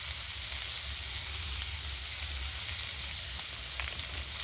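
Potatoes and carrots with salt, turmeric and chili powder sizzle steadily in hot oil for a vegetarian cabbage curry, a constant close frying hiss with no talk.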